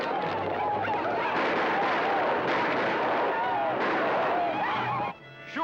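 Gunfire from a classic TV western, a dense, continuous barrage of loud shots and blasts mixed with music and effects, running nearly six seconds before cutting off.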